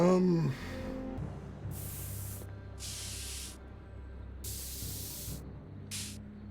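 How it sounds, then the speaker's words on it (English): A spray paint can hisses in the Back to the Future adventure game, four loud, even bursts of aerosol spray separated by short pauses, following a brief vocal sound at the start. "I think we just needed the spray paint to solve the puzzle with Hein."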